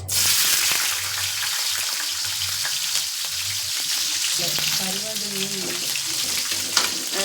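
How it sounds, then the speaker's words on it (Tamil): Dried anchovies, nethili karuvadu, frying in hot oil in a pan, with a loud, continuous close sizzle and a few faint clinks. "நெத்திலி கருவாடு இப்போ போட்டு இப்போ அதில் பொரிச்சு விட்டுக்கிறேன்"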